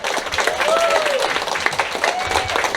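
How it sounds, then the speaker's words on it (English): Guests at a 60th birthday party applaud in a steady, fairly loud wash of clapping, with voices and cheers mixed in throughout. "another just amazing round of applause for Elizabeth who put this together."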